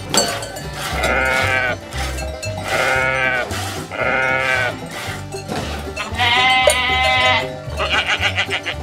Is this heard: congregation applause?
no